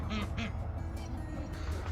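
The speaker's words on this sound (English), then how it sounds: "The Draco is a jumbo white Pekin duck" A jumbo white Pekin duck quacks a few times in quick succession, faint and a little distant, over a low background rumble.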